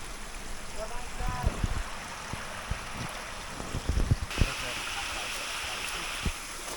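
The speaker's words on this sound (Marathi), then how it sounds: "वॉटरफॉल आहे इथं, 3 स्टेप आहे याला" Chandkada's three-step waterfall in Gujarat sends up a steady, dense rush of falling water, with a few low thumps and knocks scattered through the constant roar.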